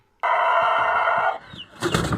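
A rooster crows once, loud and near, followed by a short burst of flapping or rustling.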